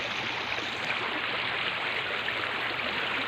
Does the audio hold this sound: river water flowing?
yes